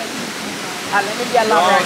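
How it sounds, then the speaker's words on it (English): A waterfall at St Nectan's Glen in Cornwall makes a steady, close rushing hiss throughout, with people's voices breaking in over the second half. "That's the tiniest waterfall I ever seen in my life."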